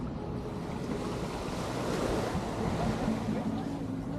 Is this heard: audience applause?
no